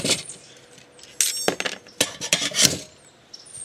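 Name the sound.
Altoids tin stove placed down inside a canteen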